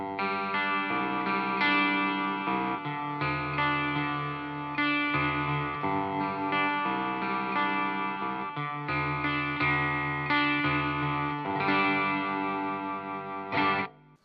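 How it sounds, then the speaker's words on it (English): An electric guitar runs through a ring modulator pedal alone, giving a metallic, dissonant tone. Loud strummed chords ring and decay in a repeating pattern with no talking. "And if I then give you just the ring modulator on its own"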